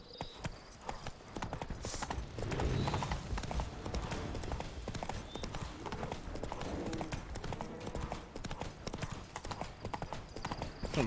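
Horse hooves galloping in The Witcher 3, a fast, continuous clip-clop rhythm close up across the whole stretch, steady and fairly loud without pause.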